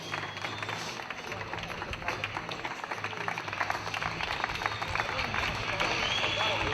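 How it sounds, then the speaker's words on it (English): A crowd on a beach claps and cheers as a rookie cyclist arrives at the end of the Race Across America, giving a dense, steady patter of applause that builds slightly, with voices talking over it. "Warm welcome from our crowd here on the beach."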